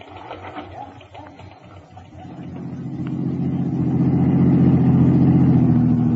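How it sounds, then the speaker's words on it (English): A car engine in a radio drama effect, a steady mid-pitched hum that swells louder from about two seconds in as the car drives, with a faint background murmur at the start. "In a rented car, I drove back to the Anderson address, parked across the street, and watched."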